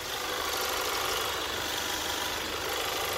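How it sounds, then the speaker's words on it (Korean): A gasoline SUV engine idles steadily up close with the hood open, a smooth continuous hum with no voices. "그럼 지금 바로 엔진 소리 한번 자세하게 들려드릴게요"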